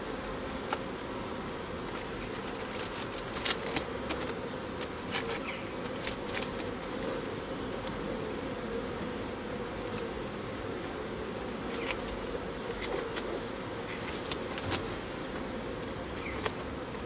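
Honey bees buzz around their hives while two nucs are being merged. The hum is steady, with many bees droning together and individual insects zipping close by in short, brighter passes. No one speaks.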